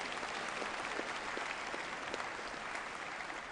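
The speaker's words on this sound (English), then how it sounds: "Can I ask that we give him another round of applause, please" Conference audience at the CITES COP17 opening ceremony gives a speaker, Mr. Solheim, another round of applause, a steady, distant-sounding patter of many hands with no talking.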